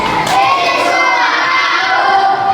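Male audience members at a university event shout enthusiastically together, a loud, dense crowd roar filling the whole moment without a break.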